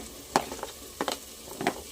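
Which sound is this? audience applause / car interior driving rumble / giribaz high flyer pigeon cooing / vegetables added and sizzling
vegetables added and sizzling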